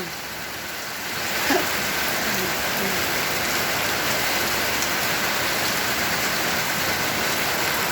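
Heavy rain pours down in a dense, steady hiss that swells after the first second and continues unbroken.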